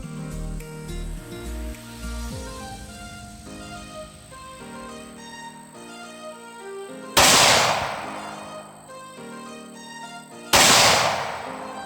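Two sharp, loud gunshots ring out several seconds apart at a shooting range during a qualification class, each bursting over a bed of steady background noise.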